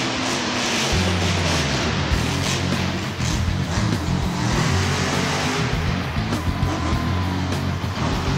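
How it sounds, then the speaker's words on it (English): A big monster truck engine starts and roars, a loud, continuous growl with revving rises and falls, heavy low rumble throughout. "take the key with your hand, grab it, and turn to start the engine"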